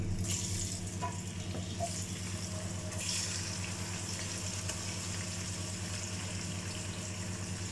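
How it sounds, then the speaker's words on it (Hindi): Marinated chicken sizzles in a pot of chicken biryani, a steady frying hiss with faint clinks and scrapes, moderately quiet and continuous, with no talk over it. "अब हम इसमें अपना मैरिनेटेड चिकन ऐड कर देंगे"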